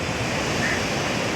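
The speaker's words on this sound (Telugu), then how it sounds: "వాటర్లో అలలు, ఇంత పెద్ద సముద్రం అంటే చెప్పలేనంత పెద్దగా ఉంది సముద్రము" Ocean waves wash onto a busy beach in a continuous broad rush of surf, with some wind noise on the microphone.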